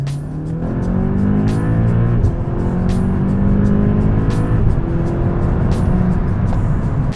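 A 2018 Audi S3 2.0T quattro S tronic launches hard, its engine note climbing through rising revs in a loud, close, continuous roar with no voices.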